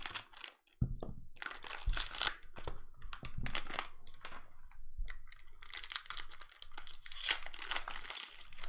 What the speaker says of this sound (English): I can't open this pack. Alright, I'm gonna have to cut it.